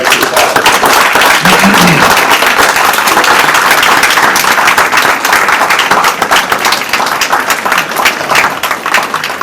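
An audience at the Kingfisher State of the City 2025 event gives city staff a round of applause, loud and sustained dense clapping that fills the whole stretch without pause.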